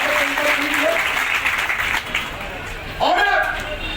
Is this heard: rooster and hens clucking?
no